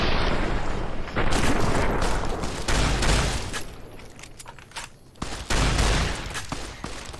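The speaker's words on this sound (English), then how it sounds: "I'm gonna shoot you in the face" Loud gunfire in Fallout New Vegas, a series of heavy shots and bursts, close, with brief lulls between volleys.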